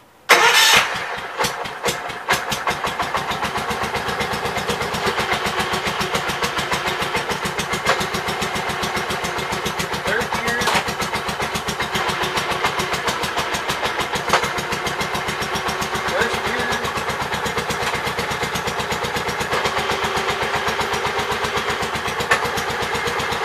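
A 1981 Gravely 8122 tractor engine cranks briefly, then catches and settles into a loud, steady, close idle that keeps running.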